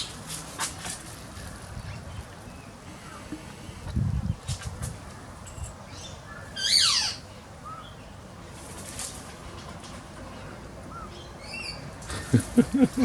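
Cockatoos and other backyard birds around corn feed, with a few scattered squawks and wing flaps over a steady outdoor hiss, plus a short burst of flapping near the end.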